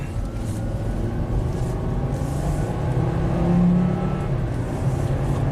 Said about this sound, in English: Let's do a little 0 to 60 run here. See if the Volvo still got it.